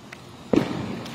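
A single firework bursts at a 4th of July celebration, a sharp, fairly close boom followed by a brief rumbling tail over quiet background noise.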